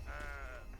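A single drawn-out sheep bleat from a video game, wavering and nasal, sounds clearly at moderate volume for nearly a second with nothing else over it.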